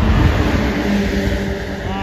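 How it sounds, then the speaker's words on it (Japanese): Cars passing by on a nearby road at night: a loud, continuous traffic roar and rumble fills the whole clip, with a faint engine whine. "車がうるさい。"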